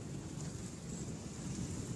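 Steady rain with a low, continuous storm rumble heard from inside a garage during a thunderstorm, the hiss and drumming constant throughout with no voices.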